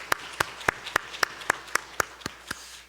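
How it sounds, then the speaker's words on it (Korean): A church congregation claps in slow, evenly spaced unison during a Sunday worship service, about ten sharp, distinct claps roughly a quarter second apart over light room ambience, with no talk. "우리 하나님 앞에 영광의 박수 드리겠습니다."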